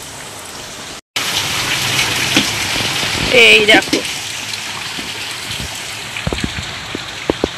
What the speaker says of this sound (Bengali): দেখো বৃষ্টি হচ্ছে কি জোরে জোরে